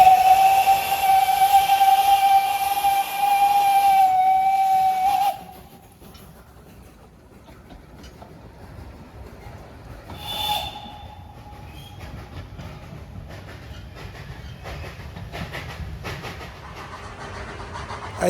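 Narrow-gauge Kemence steam train giving a long loud whistle, then a short toot, while the train rumbles past and fades into a low distant chuffing.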